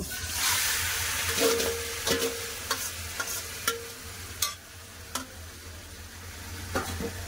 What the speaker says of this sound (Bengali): কড়াতে তেল আছে, আমি মাংসটা দিয়ে দেবো, মশলা মাখানা মাংস।